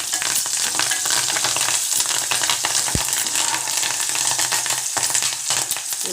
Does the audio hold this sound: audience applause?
no